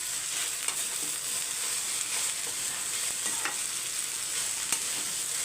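Meal maker soy chunks roasting in a pan on low heat, a steady bright sizzle and frying hiss throughout with occasional soft scrapes of a spatula, close and continuous, no talking.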